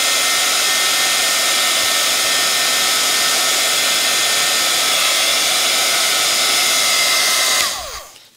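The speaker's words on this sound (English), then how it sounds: "you can either use a heat gun like this" A heat gun blows hot air across fabric to erase FriXion pen marks, a loud steady whirring blast that holds constant and then winds down as it is switched off.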